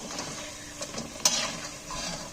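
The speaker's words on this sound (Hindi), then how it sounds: "बिल्कुल लो फ्लेम पे हम इन्हें फ्राई कर लेते हैं" Methi laddoo ingredients fry gently over a low flame, giving a soft, steady sizzle with faint stirring scrapes and one brief sharp tap, all quiet and close with no talking.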